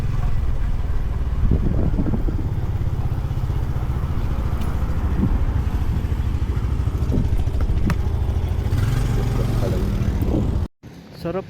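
A motorcycle or tricycle engine drones steadily on a mountain road in the Philippines, loud and close with wind rush throughout, ending in an abrupt cut near the end.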